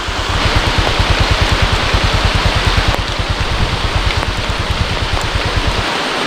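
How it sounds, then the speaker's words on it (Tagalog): Heavy rain pours down in a rainforest camp near a river, a dense, loud, continuous hiss with a steady low pulsing beneath it throughout. "Napakalakas ng ulan."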